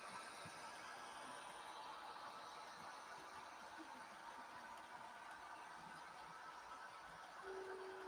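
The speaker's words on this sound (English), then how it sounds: "Oh, I hear the real train's horn." A real train horn sounds faintly in the distance, heard in Cape Breton, Nova Scotia. It rises over a steady low rumble and hiss, with a sustained horn tone standing out near the end.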